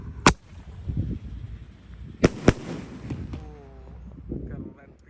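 A yellow Roman candle firework launching shots during an outdoor Ramadan celebration, three sharp loud bangs spaced apart with wind noise and a voice in between.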